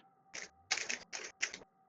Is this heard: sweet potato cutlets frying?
no